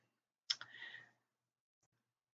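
A single quiet mouse click on an on-screen button, one short sharp tick with a brief rustle after it and a tiny tap near the end, otherwise near silence.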